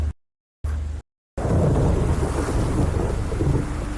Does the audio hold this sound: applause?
no